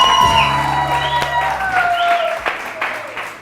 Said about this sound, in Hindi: बहुत सारी तालियां मारिया के लिए.